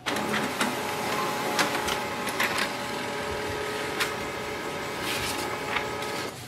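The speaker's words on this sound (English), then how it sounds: "Click on the print test page." An HP LaserJet Pro MFP 3101fdw laser printer running a test page, a steady loud mechanical whir with rhythmic clicks and feed knocks, close and continuous throughout.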